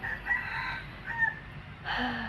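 A rooster crowing in a series of calls, moderately loud at a slight distance, with a further crow near the end and no voices.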